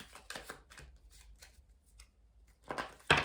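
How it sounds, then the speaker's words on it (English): Tarot cards are shuffled in quick, soft riffling bursts, a few brief flurries separated by quiet pauses and ending in a louder final riffle, close and fairly faint. "Okay, we'll do one last shuffle."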